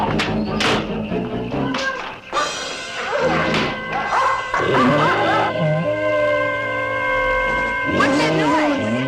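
Dogs bark and yip in sharp bursts early on, mixed with tapping and a tonal, droning background that rises and swells toward the end.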